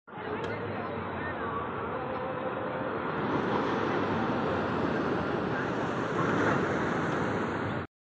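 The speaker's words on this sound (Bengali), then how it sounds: "সমুদ্রের ঢেউ দেখুন কিভাবে আসছে" Heavy surf rolls in and crashes on the beach at Old Digha during a strong high tide, a loud, continuous roar of breaking waves with wind buffeting the microphone throughout.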